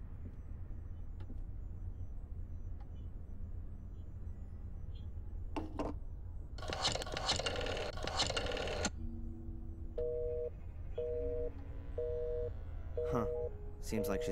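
A telephone call in the Black Mirror 2 video game: short electronic beeps and a burst of noisy signal, then a repeating pattern of dialing or busy tones, all over a steady low background drone.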